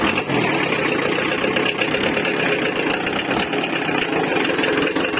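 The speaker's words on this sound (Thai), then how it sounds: "อ่าฟังเสียงเดินเบาเพราะ" A Kubota L2600 tractor diesel engine idling: a dense, loud, steady clattering rumble that continues without pause, heard close up.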